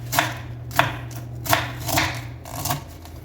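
Knife blade chopping potatoes on a board, a handful of evenly spaced thuds over a steady low hum, close and unhurried, no talk.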